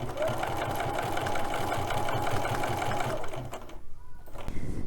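A sewing machine with a walking foot stitches a quilting grid, its steady rapid mechanical chatter running evenly for several seconds before stopping, with faint room sounds after.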